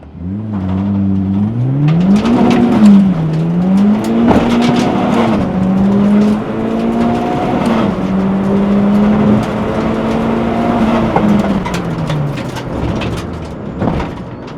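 Turbocharged K20-swapped Honda Civic EG accelerating hard on a drag strip, loud, close engine note climbing steadily through the gears with brief dips at shifts, sustained for the whole stretch with no talking.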